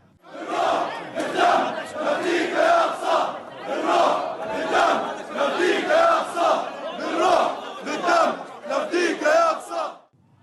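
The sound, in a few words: crowd of Muslims chanting Islamic slogans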